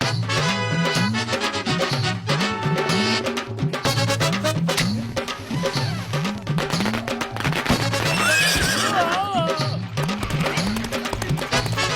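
A horse neighs in an animated comedy scene with music and crashing effects, a shrill whinny rising near the end over a busy, loud soundtrack.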